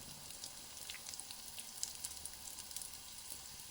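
Pumpkin pieces sizzle gently in a pan of garlic and oil, a faint, continuous crackle dotted with small pops and spits, with no voices.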